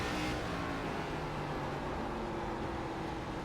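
Race car engine drone with tire noise from a short-track racing video game at Langley, a steady loud broadband roar with a faint whine running throughout, no voices.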